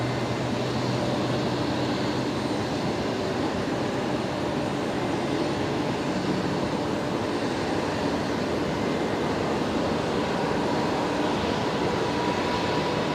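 A Qantas airliner roars at Brisbane Airport, a broad, steady jet rumble filling the whole stretch without pause, loud and unbroken, with no voices.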